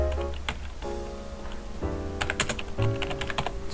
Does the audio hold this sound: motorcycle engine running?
no